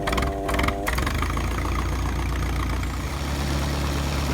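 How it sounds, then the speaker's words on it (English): A Massey Harris 30 tractor engine cranks briefly, then catches and settles into a steady, loud, close idle in freezing winter cold, with a low rumbling firing rhythm running throughout. "that is the way that tractor fires in the dead of winter, down to 0 degrees Fahrenheit"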